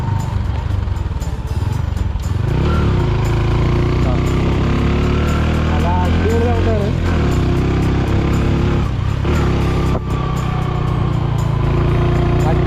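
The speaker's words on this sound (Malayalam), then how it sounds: "നമ്മുടെ പുതിയ വണ്ടികളിലൊന്നും ഇതുപോലെ നമുക്ക് കറക്റ്റ് എഞ്ചിൻ്റെ സൗണ്ട് കിട്ടില്ല" Hero Honda CD 100 SS motorcycle engine running steadily, a loud, continuous close-up drone with a dense low rumble and no break.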